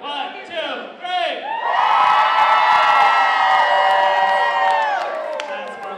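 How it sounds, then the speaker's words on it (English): A festival crowd at an outdoor Pride event screams, whoops and cheers loudly after a countdown, building into a sustained, dense roar of many voices that holds for several seconds before easing slightly. "I think we can scream a little louder than that"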